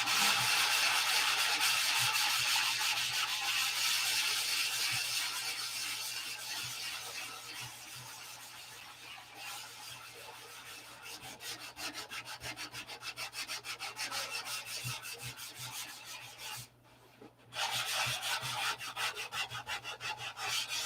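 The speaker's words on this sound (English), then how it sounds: "Now this is the sanding this out here on the paper." Sandpaper rubbed over a painted wooden piece at a workbench, a steady run of close, rasping back-and-forth strokes that ease slightly in the middle and pause briefly before resuming loudly.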